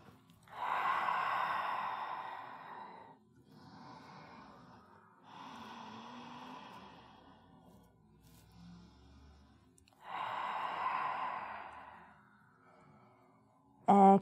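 Slow, deep breaths during a gentle yoga session for breast cancer, with three long airy exhalations close to the mic, separated by quiet pauses.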